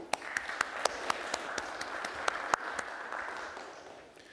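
Modest applause at a blockchain conference welcomes a speaker to the stage, a soft wash of clapping with a few sharp, distinct claps standing out, gradually tapering off.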